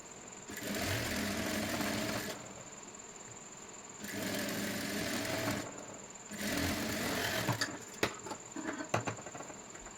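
A sewing machine stitches a sleeve hem on a puff sleeve in three bursts of rapid mechanical whirring, each running a second or two with short pauses between, followed by a few sharp clicks and taps.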